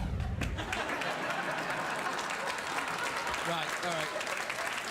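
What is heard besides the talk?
studio audience applause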